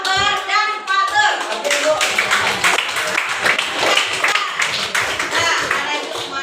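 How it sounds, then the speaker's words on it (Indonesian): Schoolchildren applaud in a classroom with a burst of brisk, scattered clapping that lasts several seconds, mixed with children's chatter. "Berikan aplaus kepada Kori, Akbar, dan Fatur"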